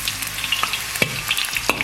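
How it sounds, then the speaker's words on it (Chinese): Garlic cloves fry in hot oil in a wok, a busy close sizzle peppered with sharp crackles and pops throughout. "锅里倒油，先是下入蒜瓣"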